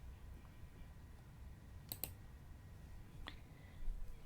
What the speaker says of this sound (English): If I click the search button again, only the result part will be reloaded.